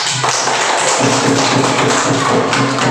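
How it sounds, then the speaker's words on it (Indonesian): Pupils in a classroom applaud a group's work with a dense, continuous patter of hand claps, close and loud, plus a few scattered thumps. "Coba tepuk tangan untuk kelompok 2."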